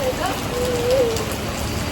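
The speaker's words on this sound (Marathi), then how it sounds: "इथे बाहेर आलो आणि हे बघा काय चाललंय, खतरनाक पाऊस आलाय." Heavy rain pours at night outside Sigree Restaurant in Vashi, a dense, even hiss filling the air while a voice briefly sounds over it.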